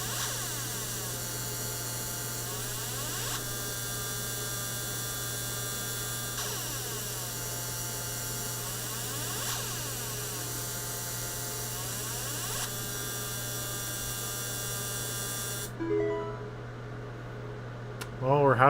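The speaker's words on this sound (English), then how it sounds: "we're halfway through drilling a hole through it" An engraver machine bores a hole through a slate tile with a steady, high-pitched electric whine and a constant mains-like hum underneath. The drone runs unbroken for about fifteen seconds and then cuts off, leaving faint handling noise.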